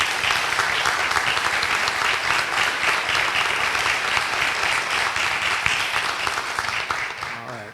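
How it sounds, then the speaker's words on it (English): A commencement ceremony audience gives a sustained round of applause, dense even clapping from a large crowd that holds steady and tapers slightly at the end. "Council and its president, Lissa Hendricks, a round of applause."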